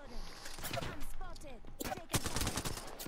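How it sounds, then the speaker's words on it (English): Rapid gunfire from several shooters in the Apex Legends battle royale game, sharp overlapping bursts at close range mixed with in-game effects, with a person talking over the shots. "Dude, they're all shooting me"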